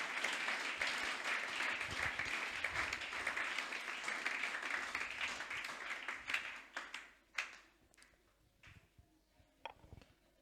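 A church congregation applauds at a Sunday service, with sustained dense clapping that fades after about seven seconds into a few scattered claps.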